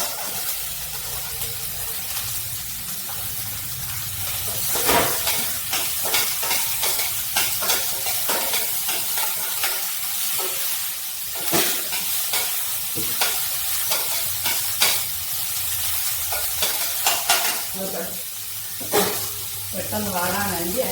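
Ginger, garlic and green chili fry with onion in hot oil for fish momo filling, a steady close sizzle broken by frequent scraping stirs, with a voice talking now and then.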